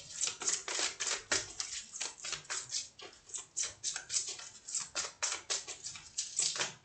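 Tarot cards are shuffled and drawn by hand, a quick run of crisp, close papery flicks and riffles repeating in an uneven rhythm, fairly quiet with no talking.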